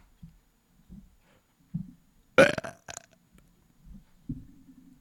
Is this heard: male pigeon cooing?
no